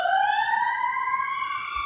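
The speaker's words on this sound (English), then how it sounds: "ambulances and fire trucks, the perks of living in a city" Emergency vehicle sirens wail through city streets, a sustained rising tone with strong harmonics, loud and close, with no voices.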